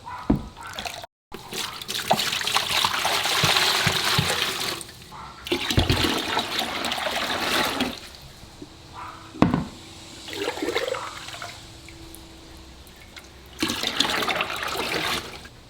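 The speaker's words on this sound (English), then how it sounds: "First, I'm going to fill the cooler up with the tank water." Aquarium tank water pours and splashes into a cooler in long, loud gushing bursts, broken by short pauses and a few drips and trickles, close by and with no talking.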